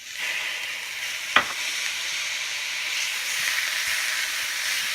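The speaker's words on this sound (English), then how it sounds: "You can see, hear that little bit of sizzle. That's the moisture in your noodles" Soaked rice noodles hit a hot pan for Pad Thai, setting off a steady, close sizzling hiss that runs throughout, broken by one sharp clack of a utensil early on, with no voices.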